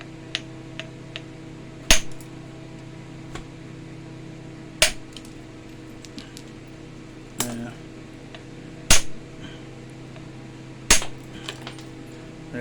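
Low-grade rock is struck with iron boppers to spall it. Five or six sharp, loud metallic cracks ring out at irregular intervals of a few seconds, with a few fainter ticks and a steady background hum between them.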